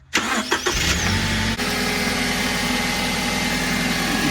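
A Toyota HiAce 2.7 litre petrol engine cranks briefly with a few quick starter bursts, catches, then settles into a steady, close idle hum with no talking.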